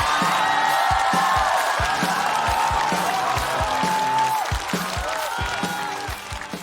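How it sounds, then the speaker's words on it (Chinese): Audience applause and cheering at a stand-up comedy show as the next comedian is called on stage, loud and sustained, blended with a rhythmic musical sting that fades slightly toward the end. "我们掌声有请杨仔儿。"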